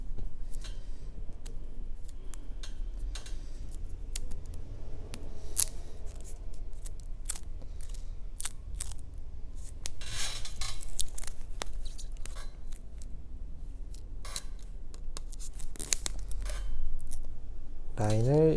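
Electrical insulating tape being wrapped to finish off handlebar bar tape gives a steady, close crackling peel dotted with sharp sticky clicks, ending in a short squeak.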